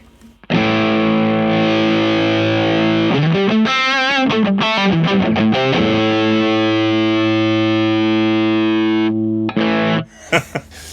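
Electric guitar played through an IK Multimedia X-Drive distortion pedal, loud and sustained: thick, saturated held chords with a busier run of picked notes in the middle, ringing for several seconds before cutting off at the end, with no talking.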